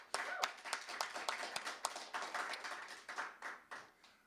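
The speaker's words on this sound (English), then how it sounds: "so give them a little round of applause" A small club audience on a Thursday night gives a brief, quiet round of applause, a thin patter of scattered claps with distinct individual hand strikes, heard from a distance.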